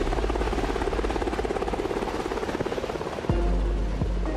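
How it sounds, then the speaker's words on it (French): A helicopter passes low overhead in Brazil, its rotor beating in a steady rapid chop with a loud, continuous engine drone that shifts slightly near the end. "Soudain, en milieu d'après-midi, un bruit d'hélicoptère au-dessus de nos têtes."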